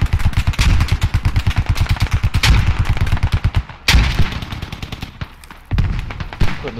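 Loud rapid automatic gunfire in a shooter game, a weapon set to full auto, firing in long rattling bursts with brief pauses and a sharp crack near the middle.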